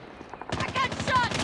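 Automatic gunfire in a multiplayer ranked-match video game starts abruptly after a short quiet lead-in, then runs as a rapid, evenly spaced burst of loud shots.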